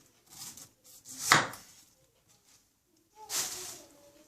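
A knife cuts the top off a pineapple lying on a cutting board, giving two short, crisp crunching and sawing bursts separated by quiet, close and fairly soft.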